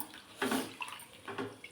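Rice is rinsed under running drinking water at home, heard as a few short, soft splashing bursts close by, with no speech.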